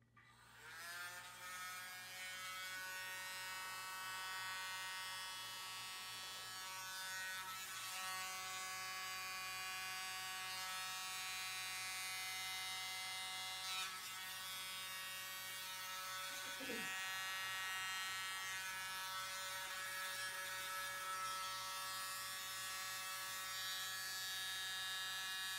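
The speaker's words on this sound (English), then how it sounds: "I'm going to be using this mini blower. Let's see if this has enough power to blow this paints." A small mini blower whirs continuously while pushing acrylic paint across a surface for a Dutch pour, a steady near high-pitched motor buzz with slight shifts in tone.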